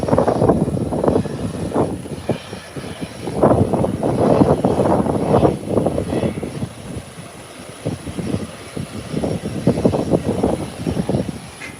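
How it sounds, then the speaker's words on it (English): A commercial airliner comes in to land at an airport, its broad engine roar rising and falling in low rumbling swells across the whole stretch, fairly close and steady with no voices. "the commercial aircraft is coming in"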